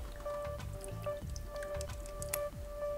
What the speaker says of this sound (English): flush the drilling chamber by opening the control cock